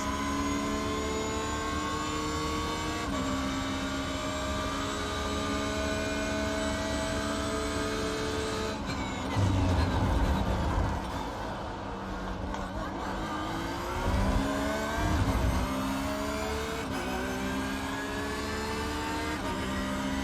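Porsche 911 GT3 R race car engines in an iRacing IMSA GT3 race at the Red Bull Ring, a steady loud whine of several cars with shifting pitch and gear changes, deeper bursts of nearby engines passing midway.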